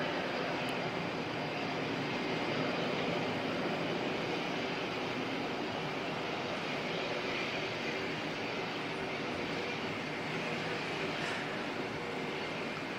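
An airplane lands in a gusty crosswind from the north to northeast at Auckland Airport, its engine roar broad, steady and loud for the whole stretch, with no one talking over it.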